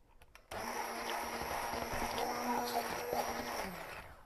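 Stick blender whipping cream in a bowl for a keto dessert, a steady loud whirring drone that starts abruptly after a brief quiet moment and runs continuously, with some rattling variation near the end.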